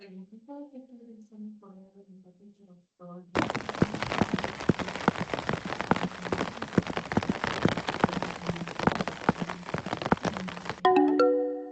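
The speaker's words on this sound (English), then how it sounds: "We were hiking when it started to rain." Steady rain falls on a surface as a dense, even patter for about eight seconds, following a short stretch of talking and ending with a brief chime.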